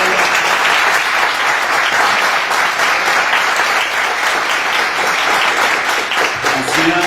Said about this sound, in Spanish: un aplauso a la sala